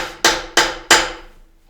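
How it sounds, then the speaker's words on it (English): Three sharp, evenly spaced hammer taps ring out loud and close, each fading quickly, with no voices. "you can hear the leprechauns hammering their shoes."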